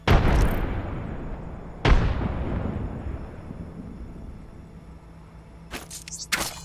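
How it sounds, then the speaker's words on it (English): Two sharp grenade blasts from Apex Legends, a thermite and a frag, the first at the start and the second near two seconds, each with a long rumbling decay, followed by a few quieter sharp bursts near the end. "Throwing thermite grenade. Frag grenade sent."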